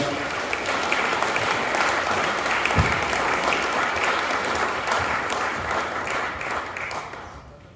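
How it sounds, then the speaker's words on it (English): A round of applause fills the room at a housing awards ceremony, many hands clapping steadily at moderate volume before gradually fading toward the end, with a voice faintly present underneath. "let's have a big round of applause"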